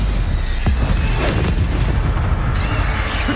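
A Stupefy spell cast in the Hogwarts Legacy video game lands as a loud, dense booming burst with a swept whoosh, filling the whole moment with sustained crackling impact noise and no speech.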